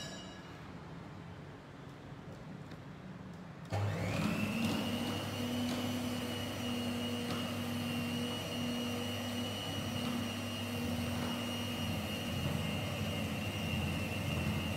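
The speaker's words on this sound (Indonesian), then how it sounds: "mixer dengan kecepatan rendah dulu" After a quiet opening, an electric mixer switches on abruptly at low speed while making fish dumpling dough and runs with a loud, steady whine and hum to the end.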